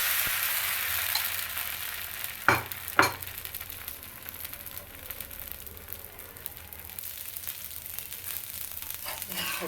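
A dosa sizzles on a hot MEYER cast iron tawa with a steady crackling hiss, broken by two sharp scraping knocks near the middle, close up and without voices.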